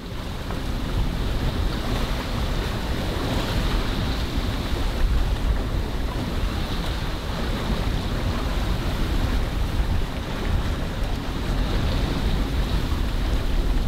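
A refitted sailboat heads out on its first trip after two weeks ashore, with steady loud wind buffeting and the wash of waves against the hull throughout, no voices.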